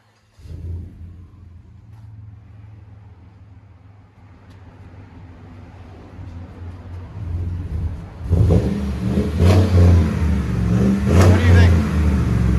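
A 2017 Chevy Tahoe Z71 with a 5.3-liter V8 and Magnaflow dual exhaust with quad tips starts and idles with a low, moderately loud rumble, then revs up sharply in several bursts near the end.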